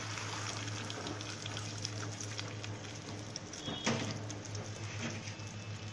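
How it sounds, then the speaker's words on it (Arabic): Water poured into a vinegar and chili sauce for koshari, a steady liquid patter and splash running throughout at moderate level, with a faint low hum underneath and no talk. "ونحط مية طبعا عشان الخل ما يبقاش مزز قوي، فهنحط شوية مية"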